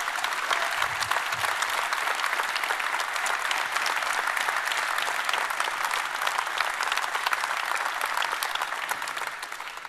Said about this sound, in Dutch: Een applaus nogmaals voor Laurens van der Lakken